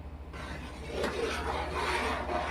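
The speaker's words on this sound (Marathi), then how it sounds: "तिला असं ढवळतच राहायचं तेव्हा तो आपला साबुदाणा व्यवस्थित शिजेल आणि तांदूळ शिजेल" Spoon stirring rice and sago kheer in a pan, a soft continuous scraping and rubbing close by with no talk.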